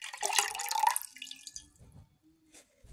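Water poured from a cup into a smoothie blender: a close, bright splashing pour for about a second, fading into soft drips and small liquid movements.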